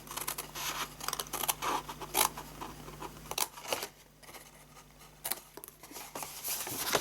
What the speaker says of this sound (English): now we need our scissors